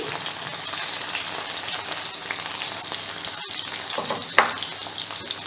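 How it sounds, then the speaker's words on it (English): Tomatoes frying in a pan over a low flame give a steady, close sizzle and crackle that carries on evenly with one brief louder spatter, and no talking. "keep the flame on low and just add the tomatoes"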